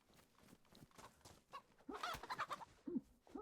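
A chicken clucking in the survival video game DayZ, several short close clucks and squawks growing louder toward the end, with no talk.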